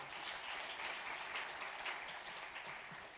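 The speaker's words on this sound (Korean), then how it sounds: "박수로 한번 격려하겠습니다" Soft, continuous applause from a church congregation during a Sunday worship service, many hands clapping together in a distant, even wash that stays level for a few seconds.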